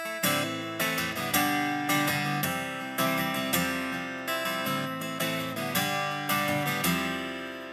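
Acoustic guitar with a piezo pickup played straight through a Line 6 StageSource L2t speaker without acoustic modeling, steady strummed chords in a regular rhythm, close and fairly loud, with no talking.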